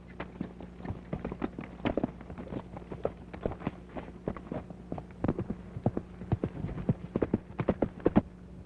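Horse hooves clip-clop in an old 1934 Western serial, a run of sharp, uneven knocks that grow louder and quicker toward the end, as though the horse is drawing nearer.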